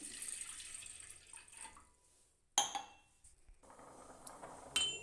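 Water splashing and pouring into a metal pan, one cup for a cup of semolina, with a faint clank of cookware and a couple of sharp taps.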